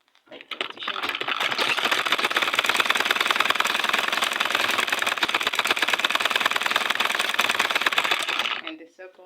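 A sewing machine runs in one continuous, rapid burst of about eight seconds, loud and close, top stitching a pair of short knicker pants before stopping.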